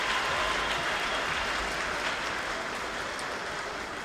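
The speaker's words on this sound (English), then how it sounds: "Can we give one more round of applause for them starting this 10 years ago?" Steady, dense applause from an audience at a Strut For The Cure charity event, a continuous even wash of clapping that holds at a constant level for the whole stretch with no voices over it.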